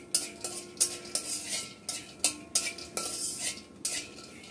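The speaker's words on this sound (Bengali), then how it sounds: "কিছুটা সয়াবিন তেল দিয়ে দিলাম, সাথে আমি চিনি বাদাম দিয়ে দিলাম। বাদামগুলো আমি একটু ভেজে নেব।" Peanuts fry in soybean oil in a wok while a metal spatula scrapes and clinks against the pan in repeated sharp strokes over a faint sizzle, close and alone without talk.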